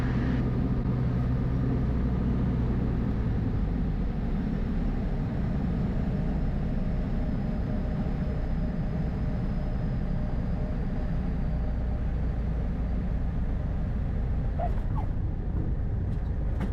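A small airplane settles onto a runway and rolls out, its engine and airframe roar loud and continuous and close by, with the engine note dropping slightly partway through.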